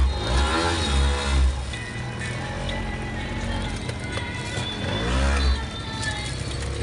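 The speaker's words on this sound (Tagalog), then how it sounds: "Nakasakay na po kami ng tricycle." Ride in a motorized tricycle, the engine droning steadily and revving up twice in rising surges, with road noise throughout and voices talking over it.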